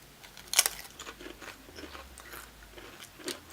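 Gravy-flavoured potato chips crunch between the teeth in a sharp, loud bite followed by a run of softer, irregular chewing crunches close to the mic, with no talking.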